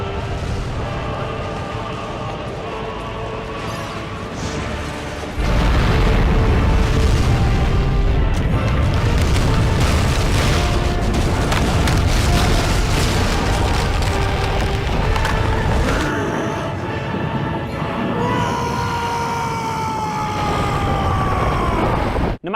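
A planet-sized demigod explodes in a video game, heard as a loud roaring blast that erupts a few seconds in and holds as a dense, sustained rumble, with whistling tones toward the end.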